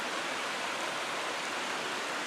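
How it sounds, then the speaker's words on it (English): Lost Creek runs over stones in autumn, a steady, even rush of water hiss filling the whole stretch at moderate level, with no talking. "So sounds like the creek's running pretty good."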